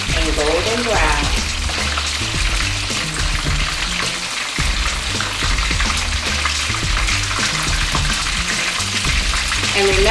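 Salmon rolls sizzle and crackle steadily in hot oil, a dense, continuous frying hiss heard close up with music playing loudly underneath throughout.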